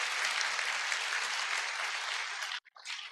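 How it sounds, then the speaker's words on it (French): Church congregation clapping and cheering in a dense, loud wash of applause that holds steady, then breaks off abruptly near the end with a brief flurry after. "Si tu as bien compris, acclame le Seigneur."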